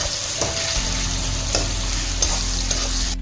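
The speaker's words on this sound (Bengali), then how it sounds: "টমেটোটাও আমি ভালো করে নেড়ে নেব যাতে সফট হয়ে যায়" Tomatoes fry in a pan for a Bengali-style chicken and potato jhol, a steady sizzle under the scrape and clink of a spoon stirring them in a few distinct strokes.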